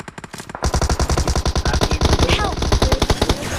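Rapid automatic gunfire in a shooter video game, a loud sustained burst of evenly spaced shots that starts abruptly and continues to the end, with a faint voice underneath.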